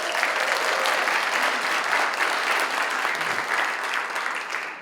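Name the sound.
audience applause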